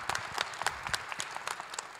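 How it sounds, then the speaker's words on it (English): A concert audience at the Arlene Schnitzer Concert Hall applauds Oregon Symphony resident conductor Gregory Vajda, a brief burst of dense clapping from a crowd at moderate distance. "And a warm round of applause for resident conductor Gregory Vajda of the Oregon Symphony."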